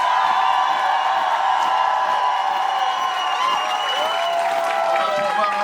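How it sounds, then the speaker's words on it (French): Audience at a drag show finale applauding and cheering for drag performer Barbatata, a dense, loud crowd roar with high whoops and shouts running throughout. "j'aimerais qu'on fasse un tonnerre d'applaudissements à Barbatata"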